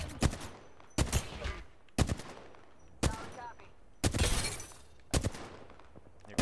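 Apex Legends gunfire: six sharp, loud bursts of shots spaced roughly a second apart, each a short crack with a brief tail, one longer burst in the middle, with a little talk between.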